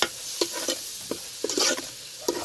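Ground masala of ginger, coriander, coconut and garlic being stirred into a sizzling pan for village-style capsicum curry, with a steady close fry hiss broken by several sharp spoon scrapes and clatters.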